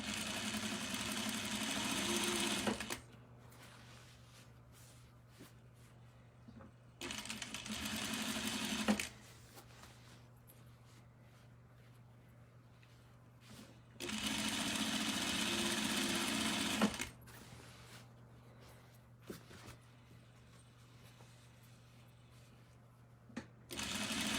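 A sewing machine stitches a skirt in three separate runs of fast, steady mechanical whirring, each lasting a few seconds, with quiet pauses between them and a faint constant hum underneath.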